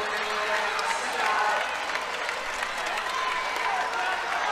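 Crowd noise from fans at a women's college wrestling dual meet in an arena, a steady roar of cheering and applause swelling slightly midway, with a commentator talking over it.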